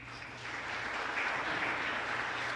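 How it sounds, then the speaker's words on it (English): An audience applauds after a keynote talk, a steady wash of clapping heard at a moderate distance that holds evenly throughout with no voices over it. "Let's give him a big round of applause."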